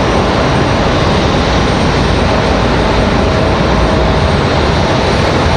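A landing airliner at Raleigh-Durham International touching down, a loud, steady broadband roar of engines and rushing air filling the whole stretch without a break.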